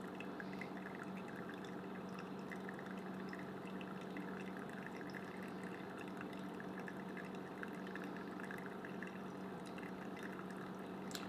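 Water is poured steadily from a Brewista kettle into a Bodum pour-over coffee maker, a soft continuous trickle that runs alone and unbroken throughout.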